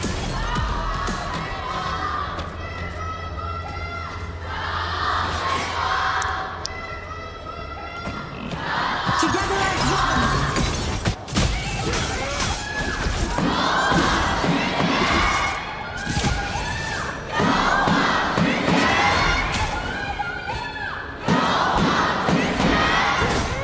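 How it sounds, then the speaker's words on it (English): A large crowd in an esports arena cheers and shouts, loud and sustained, with surges of yelling and occasional thumps and slams. "everyone just use your loudest voice, cheer it up for your favorite team"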